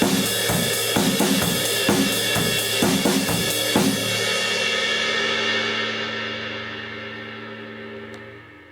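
A steady surf-style drum beat, driving rhythm on a washy ride cymbal with kick and snare, fading out as the cymbal rings and decays.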